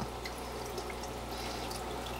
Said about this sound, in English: when the water is coming through the system of the hang-on back filter, it hits the biomat marrenland padding